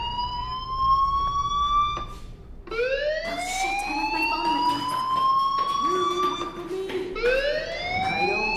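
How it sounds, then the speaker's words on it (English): A fire alarm wailing in the video game Life is Strange, a loud rising and falling siren that sweeps up repeatedly in long electronic tones, close and continuous, with faint background clatter and no speech over it. "Hey, do you hear that fire alarm? That means you should be outside."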